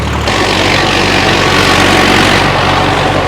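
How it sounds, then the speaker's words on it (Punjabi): An Arjun tractor engine runs loud and steady at close range in its lowest gear at super seeder speed, a continuous deep rumble with no pauses and no voices. "3 ਸਪੀਡ ਸੁਪਰ ਸੀਟਰ ਵਾਲੀ ਸਪੀਡ ਤੇ ਚੱਲ ਰਿਹਾ ਇਹ ਟਰੈਕਟਰ"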